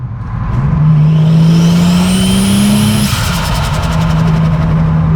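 A car pulls away on an open road, its engine note climbing steadily for a few seconds and then easing into a loud, sustained cruise with wind and tire roar close by.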